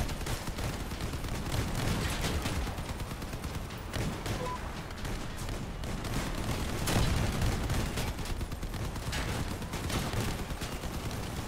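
Vehicle cannon fire in the combat game Crossout, a dense continuous barrage of overlapping gunfire blasts and engine noise, loud and unbroken throughout.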